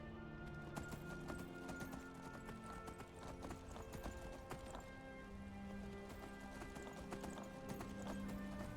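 Horse hooves clip-clopping in the modded Skyrim Special Edition game, a steady run of hoofbeats over background game music, with an occasional whinny.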